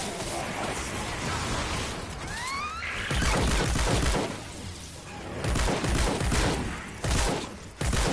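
Shotgun blasts and combat noise in Fortnite Save the World come in loud, dense bursts of booming impacts and crashes, with several sharp hits near the end over a constant busy game background.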